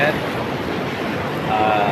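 Sea waves wash onto a beach in the morning, a constant close roar of surf mixed with wind buffeting the microphone.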